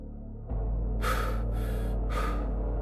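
Man panting heavily as he reaches a hut door after running: a steady breathy roar with two or three sharp, hissing gasps rising over it, close and loud, no talking.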